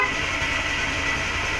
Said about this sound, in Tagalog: Ito naman yung loud horn